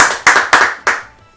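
A few people clap for a winner, Erika Medina: four distinct handclaps that are close, sharp and loud, spaced unevenly and fading at the end.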